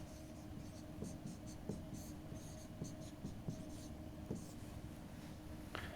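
Chalk or marker scratching out equations on a lecture-hall board during a physics lecture on Ampère's law, a steady run of short strokes and taps against a constant room hum.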